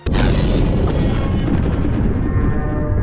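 A massive laser-caused explosion in an Ultraman Omega episode bursts in suddenly, then a dense, loud roaring rumble sustains without letup until it cuts off.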